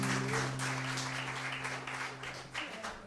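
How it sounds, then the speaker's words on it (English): Crowd applauding a host, steady clapping throughout, with a sustained musical tone underneath. "Can I have a round of applause for this amazing host?"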